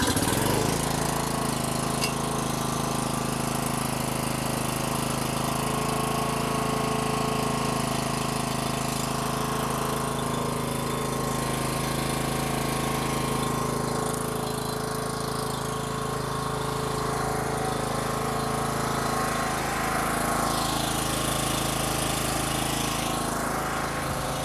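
A Homelite 1800W portable generator, restarted after twelve years unused, runs steadily with a loud, even mechanical drone and no pauses, alone without voices.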